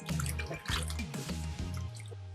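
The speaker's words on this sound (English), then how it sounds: "So I'm going to keep rinsing until my water gets really clear." Vegetables are rinsed in a kitchen bowl of water, with close, rhythmic sloshing and dripping splashes repeating several times as the water is swirled, and no talk.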